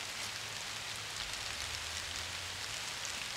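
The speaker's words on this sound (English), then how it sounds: "it's starting to rain" Rain starting to fall outdoors in the woods, a steady, even hiss of drops on surfaces close by with a low rumble underneath, continuous and without talk.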